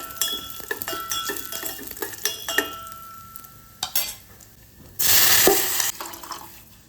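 Dry fruits stirred into hot ghee with cardamom for sabudana kheer, with scattered spoon clinks and scraping in the pan, a brief quiet spell, then a loud burst of sizzling toward the end.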